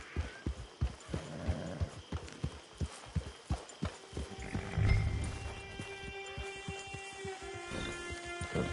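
Steady clip-clop of horse hooves at a walking rhythm in the video game Red Dead Redemption 2 Online, close by, followed by a horse's whinny and a low rumbling background.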